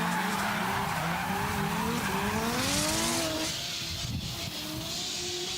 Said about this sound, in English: Turns left a little bit too early, but manages to keep the car in drift.